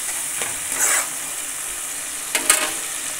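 Masala mixed with tomato paste is fried and stirred in oil, giving a constant soft sizzle with two short bursts of spoon scraping and stirring nearby.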